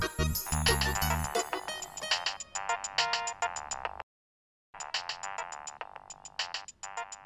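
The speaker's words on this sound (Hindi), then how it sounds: "भाईजान का फोन।" A mobile phone ringtone plays as a bright, loud electronic melody, cutting off briefly and then resuming with repeated chiming notes.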